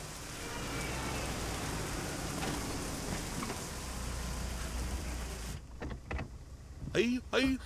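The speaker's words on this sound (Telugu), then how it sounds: "వర్షం బాగా పడుతుంది" Heavy rain pours steadily as a dense, even hiss that fills most of the scene, then breaks off into a few sharp knocks and brief sounds near the end.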